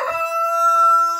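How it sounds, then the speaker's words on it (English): A rooster on a backyard farm crows loudly and close by, one long sustained crow with a steady harmonic tone filling the whole moment. "Mr. Rooster Guy, you're so loud."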